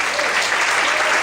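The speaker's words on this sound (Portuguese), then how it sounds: "Você pode aplaudir o Senhor." Brief burst of congregational applause in a church service, clapping for the Lord after a sermon passage; dense, even clapping from many people with a faint crowd murmur underneath.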